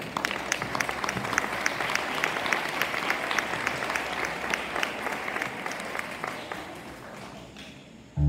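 An audience applauds ballet dancers from the Escuela Agustiniana de Ballet, sustained and fairly close, tapering off near the end before a brief sharp sound.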